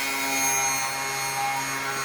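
A drill bit bores into a labradorite cabochon held in a container, giving a steady high whining grind with tonal hum throughout, close and fairly loud.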